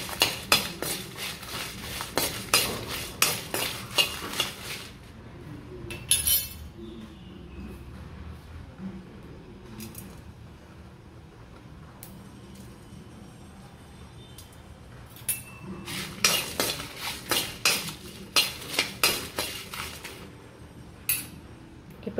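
Red chilies, coriander seeds and cumin dry roast in a pan, stirred with a metal spoon that scrapes and clinks in quick bursts, pausing to a quiet hiss in the middle before rapid stirring resumes.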